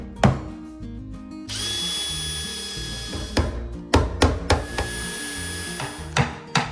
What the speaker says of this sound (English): I pre-drill and nail the face frames to the base cabinets.